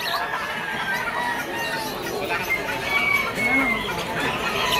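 Eight-month-old stag gamecock clucking amid a busy rooster market in Malabon, with crowing and other fowl close by against steady crowd noise and talk.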